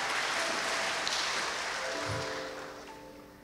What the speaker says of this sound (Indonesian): Mari kita berikan sorak-sorai bagi Allah kita.